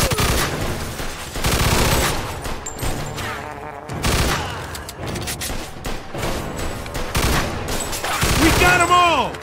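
Gunfire from the video game Mafia II rattles in dense, loud bursts of rapid shots almost without pause, with booms and crashes and game voices shouting over the din.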